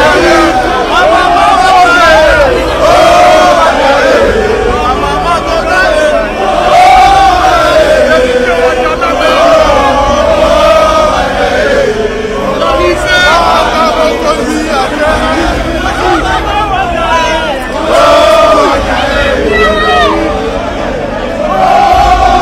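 A large crowd of fans at a Paris concert roars and chants continuously, a loud, sustained wall of voices with swelling cheers and shouts throughout, close and dense.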